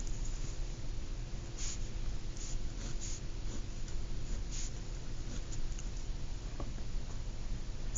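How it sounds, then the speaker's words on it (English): Writing out a vector in component form during a math lesson, with faint, scattered scratches and taps of the writing tool spread over a steady low hum, and no speech. "Let's go ahead and write it in component form."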